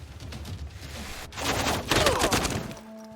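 Ranged units opening fire in the Civilization VI strategy game, a short burst of volleyed gunfire that swells into a dense crackling barrage and then cuts off into quiet.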